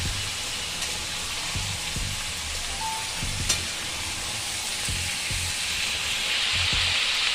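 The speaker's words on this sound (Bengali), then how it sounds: "এঁচোড়টা একটু তেলে নেড়ে চেড়ে নেব, তারপর মশলা দেব।" Young jackfruit frying in hot oil and being stirred, a steady close sizzle with soft intermittent scraping knocks from the spoon, no voices.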